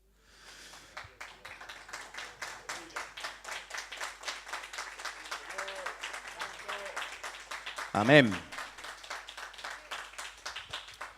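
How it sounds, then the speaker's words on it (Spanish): A church congregation claps in steady rhythmic unison for several seconds, the beat quickening and swelling slightly, while a loud voice calls out briefly partway through. "Pero si alguien quiere dar un aplauso para la gloria de Dios,"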